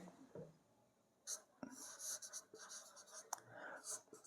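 Pen writing out a math proof on paper, faint scratchy strokes in short bursts with small taps between them, close and quiet, no talking.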